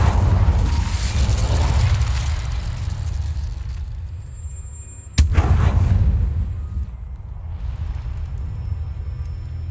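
A fiery Incendio spell cast in Hogwarts Legacy bursts with a sharp crack midway, following a low rumbling roar and trailing off into a fading hiss, with no voices.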